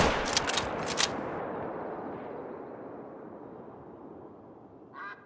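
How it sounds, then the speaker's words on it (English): A hunting video game rifle fires at a lioness: a sharp, loud shot with a couple of quick cracks early on, then a long rolling echo fading away into quiet. "I'm going to let her stand back up and go ahead and take the shot."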